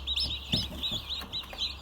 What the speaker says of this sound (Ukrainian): А тут у нас індичата і малесенькі курчата.